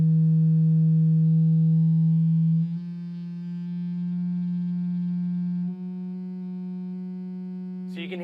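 A loud, pure sine tone driving a standing sound wave drops in level and shifts slightly in pitch as the frequency is adjusted, then holds steady before a short burst of other sound at the end.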